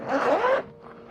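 A zipper is pulled open on a fabric armrest cover of a camper van seat. It makes one continuous rasping run of about half a second, close and moderately loud, and then trails into quieter fabric handling.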